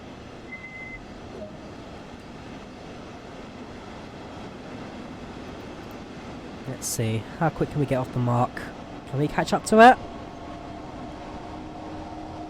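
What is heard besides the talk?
train accelerating in Train Sim World video game, Rhein-Ruhr line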